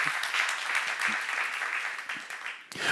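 A church congregation claps together during a Korean seminar sermon, a steady, dense burst of hands filling the hall for a few seconds, fairly close and even throughout.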